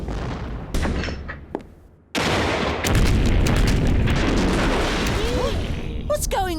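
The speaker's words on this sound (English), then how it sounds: "My favorite CD! Military Explosions!" Heavy booms and rolling artillery-like blasts from a recorded military explosions CD crash loudly one after another, with a sharp whistle-like sweep near the end.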